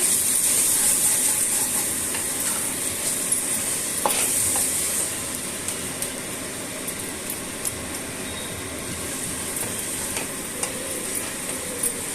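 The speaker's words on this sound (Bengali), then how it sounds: "ভালো করে কষিয়ে নিব মশলাটা" Beef bhuna spice masala being stir-fried in a pan for a Mughlai-style dish, a steady close sizzle with scraping stirring strokes throughout, no voices.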